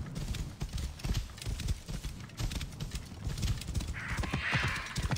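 Horse hooves clip-clop at a steady trot in the video game Assassin's Creed Origins, close and rhythmic for several seconds, with a breathy snort or whinny near the end.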